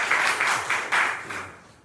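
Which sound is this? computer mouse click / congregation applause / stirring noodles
congregation applause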